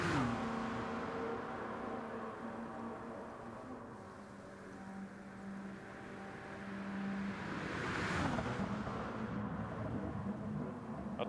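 A wet-weather race car engine in a Le Mans racing video game holds a steady, droning hum with shifting pitch, then swells in a brief rising whoosh near the end as the car accelerates.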